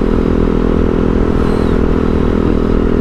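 Engine of a 2011 Husaberg FS570 motorcycle, heard as a loud, steady, continuous drone with a rough, clattery texture and no talking.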